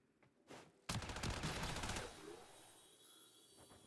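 Gunfire from a video game player corner-shooting, a short rapid burst of shots that starts with a sharp crack, rattles for about a second and then fades into a lingering echo.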